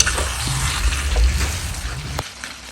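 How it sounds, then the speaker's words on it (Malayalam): Beef roast frying and being stirred with curry leaves in a pan, a steady close sizzle with scraping stirs, ending abruptly near the end. "അപ്പോൾ ഇനി കുറച്ച് കറിവേപ്പില ഇട്ട് ഇനിയും ഇളക്കുക"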